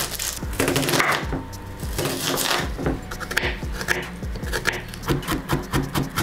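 A kitchen knife chops onions and garlic on a wooden board for a vegetable stew, in rapid, close, irregular thuds that continue steadily throughout.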